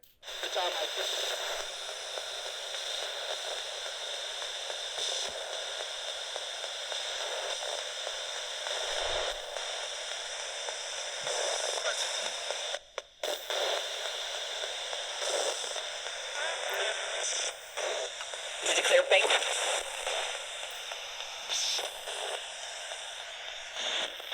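Steady broadband radio static and white-noise hiss fills a hotel room during an overnight paranormal investigation. It stays loud and continuous throughout, with a few brief dips and crackling fluctuations.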